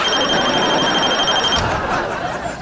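A telephone rings with a bright, steady electronic trill that cuts off abruptly partway through, over loud busy background noise.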